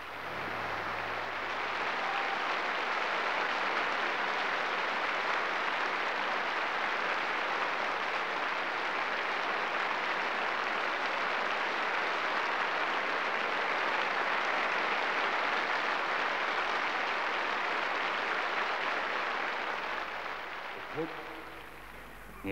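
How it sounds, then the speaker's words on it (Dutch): Stormy applause for an orchestra, choir, soloists and conductor fills the hall, a dense, steady wash of clapping from a large audience that holds evenly throughout before easing at the very end. "Applaus, stormachtig applaus voor het orkest en het koor"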